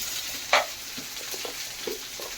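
Spices stirred into onion, peanut and tomato frying in a pan, giving a faint steady sizzle with a sharp clink of the spoon and a few soft scraping stirs.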